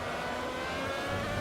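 Formula V12 race car engine from a Ferrari of that era, in the Automobilista racing game at Imola, holds a dense, sustained high-revving scream, steady and loud throughout with no talk.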